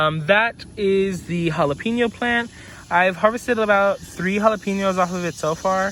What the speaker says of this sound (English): You guys probably hear the cicadas in the background.